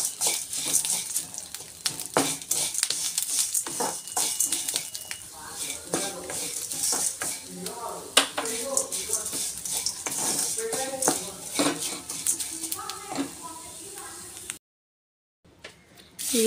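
Curry leaves and tamarind frying in a pan, with continuous crackling sizzle and repeated scraping of a spoon against the pan that stops briefly near the end.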